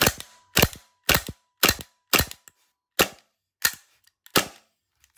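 A KSC Sig Sauer SP2022 gas blowback airsoft pistol with a replaced piston head fires eight loud, snappy shots at close range, each a sharp crack with a quick slide clack, spaced roughly half a second apart.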